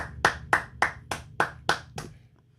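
Eight sharp hand claps from one person in a steady, evenly spaced rhythm, close and loud, the last one fainter, with no talking over them.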